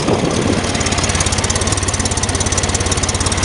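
Corvair Monza air-cooled flat-six engine idling roughly with a misfire, a loud, close, uneven chugging pulse that runs throughout, with no talking.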